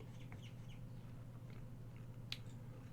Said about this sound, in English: So if you hear bird noises, they're just keeping me company.